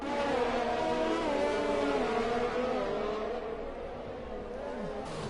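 Sim racing cars battling for position on the Abu Dhabi circuit, one car on soft tires chasing another on mediums, engines droning steadily at high revs with pitch sweeps as they run close together, loud and continuous.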